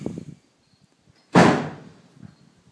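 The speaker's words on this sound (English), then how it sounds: "My wind's coming up, blowing the door shut." A wind-blown door slams shut once, a sharp loud bang in a workshop with cut pipe lying about, trailing off after short faint knocks and rustles.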